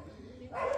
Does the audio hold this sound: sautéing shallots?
no